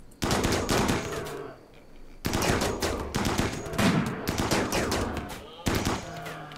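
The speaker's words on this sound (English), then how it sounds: "You guys fire at that one." Gunfire from colonists shooting in the video game RimWorld: dense, continuous bursts of rapid shots with brief gaps between volleys, loud and close, with a faint voice now and then underneath.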